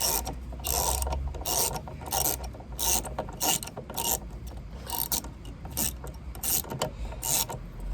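A hand ratchet clicks steadily while loosening bolts during home servicing of a VW Golf, with rapid repeated ratcheting bursts and metallic rubbing, close and continuous, with no talk.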